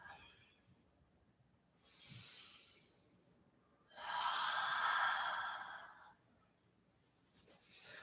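Slow, deep breaths during a yoga flow, two long audible exhales rising and fading in a quiet room, close and soft, without speech.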